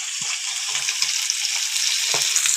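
Three pieces of pabda fish frying in oil over a high flame, a bright, continuous sizzle with a few small pops and crackles, close and steady, no voices.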